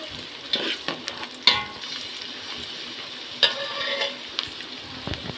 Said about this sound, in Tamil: வெங்காயம் வந்து கொஞ்சம் பொல்லாரமாக வரணும் அது வர கொஞ்சம் வதக்குவோம் நல்லா வதங்கி வரணும்